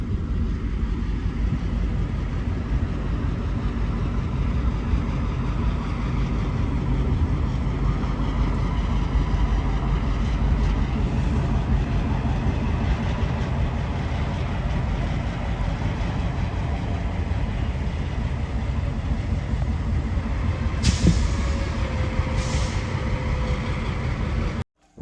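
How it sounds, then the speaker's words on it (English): An MP15AC diesel switcher locomotive, number 152, pulls a single ballast car during trackwork on the Port Jefferson Branch, producing a steady low rumble heard from nearby. A brief higher squeal comes near the end. "we saw MP15AC number 152 pulling a singular ballast car"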